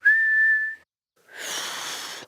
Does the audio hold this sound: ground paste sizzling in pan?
no